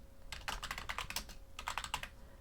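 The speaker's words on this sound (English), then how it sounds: "I'm typing this in Python" Rapid typing on a computer keyboard while writing code, two bursts of quick clattering keystrokes close by over a faint steady hum, with no talking.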